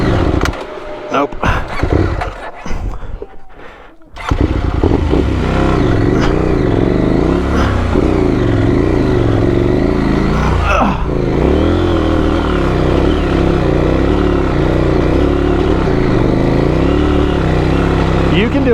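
Off-road motorcycle on Dunlop Trailmax tyres revving hard and continuously, loud and close, with engine pitch rising and falling as it struggles for grip; a rider shouts encouragement over it.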